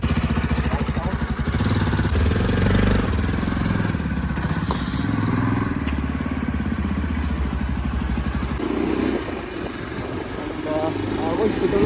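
A new motorcycle low on petrol idles and then pulls away, its steady mid-pitched engine rumble close and loud throughout, with a voice talking over it and the engine note dropping near the end.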